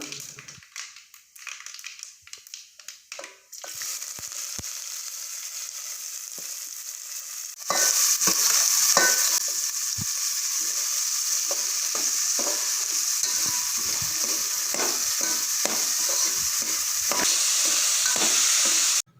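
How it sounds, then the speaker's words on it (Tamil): Mustard seeds pop in hot oil, then small shallots and chopped onions drop in for a chicken curry, bursting into a loud steady sizzle with frequent close scraping stirs and clatters. No talking. "கடுகு பொரிஞ்சதும் தோல் உரிச்சு வச்சுருக்க சின்ன வெங்காயத்தையும் கட் பண்ணி வச்சுருக்க பெரிய வெங்காயத்தையும் சேர்த்துக்கலாம்"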